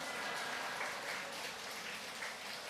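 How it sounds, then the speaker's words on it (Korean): Congregation clapping in unison at a Friday church worship service, a dense, steady wash of applause filling the room for a few seconds without a break. "박수 한번 쳐주시기 바랍니다."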